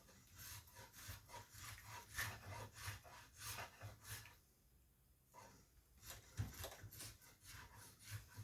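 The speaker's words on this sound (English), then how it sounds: "I'm doing it with the spoke shave today" Spokeshave shaving bark and sapwood from a honeysuckle walking stick, giving rhythmic rasping wooden strokes, close and steady, with a brief pause midway.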